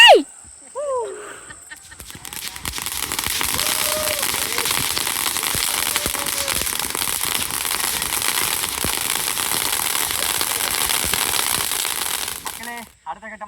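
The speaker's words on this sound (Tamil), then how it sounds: "மேஜிக் ஸ்வாடு, அதாவது கையில் பிடிச்சி இப்படி வானத்தை பார்த்து வச்சோம் அப்படின்னா பறக்கிறது." A handheld magic sword firework, pointed at the sky during Diwali, hisses and sprays steadily for about ten seconds with a crackling, fizzing roar, preceded by a brief whistle and followed by quiet.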